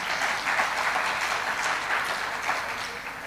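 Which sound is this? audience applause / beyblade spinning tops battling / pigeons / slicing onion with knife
audience applause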